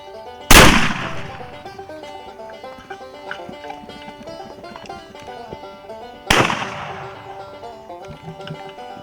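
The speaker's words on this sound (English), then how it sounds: "once I pull my shotgun to my shoulder and touch the safety off, the shotgun goes off" Two loud shotgun blasts during a turkey hunt, one near the start and another about six seconds later, each a sharp broadband crack with a trailing echo over quiet outdoor background.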